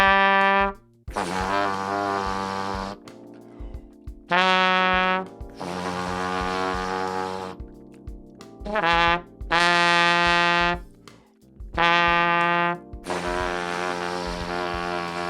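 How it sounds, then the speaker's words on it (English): A trumpet alternates sustained tones with pauses, each higher note in the regular register followed by a buzzy pedal tone an octave down. "1 note in the regular trumpet register, and then an octave below."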